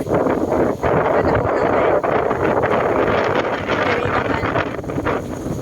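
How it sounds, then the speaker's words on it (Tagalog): Strong wind buffets the microphone in loud, continuous rumbling gusts, with brief dips, drowning out everything else. "strong winds"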